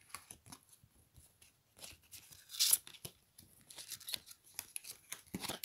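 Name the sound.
tarot cards being drawn and shuffled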